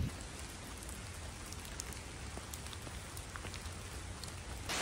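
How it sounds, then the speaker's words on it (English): Steady rain falls on a mountain hiking trail in Hawaii, a soft continuous patter with occasional sharper drops striking nearby surfaces, fairly quiet and heard alone. "I really hope the rain stops soon"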